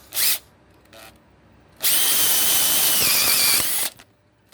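Power drill driving a 5/16 drive roofing screw, with two short trigger bursts followed by a sustained loud two-second whine as the screw bites, then a brief final blip.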